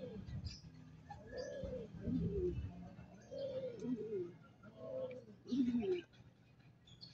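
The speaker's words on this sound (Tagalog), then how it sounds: "Ito yung pinakabata kong ibon sa SDR o South Derby Race na siningsingan." A young racing pigeon raised for the South Derby Race coos in several soft, rolling phrases that come and go close by, with quiet background noise between calls.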